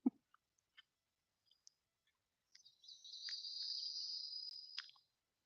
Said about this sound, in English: That sounds like a really pissed off cicada.